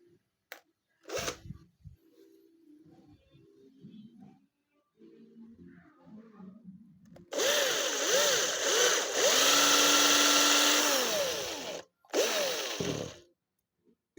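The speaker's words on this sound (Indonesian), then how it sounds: "nanti kita bor untuk posisi timahnya" Quiet handling noises, then a loud power drill with a 5 mm bit whirs steadily for several seconds while boring into a minnow lure body, pitch shifting as it bites, stopping briefly and starting again.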